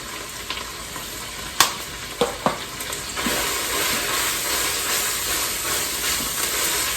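Sausage tortellini soup is stirred in a pot, a steady steamy sizzle with a few sharp spoon clanks early on, then a continuous bubbling hiss close by with no talking.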